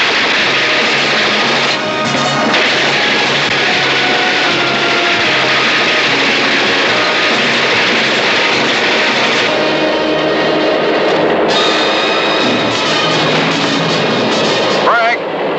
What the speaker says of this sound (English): Locomotive.